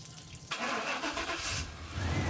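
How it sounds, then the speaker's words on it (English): A 1995 Chevy truck's 350 V8 engine starts by remote start, cranking briefly and catching into a steady, loud idle rumble close by. "I actually have a remote start on this truck,"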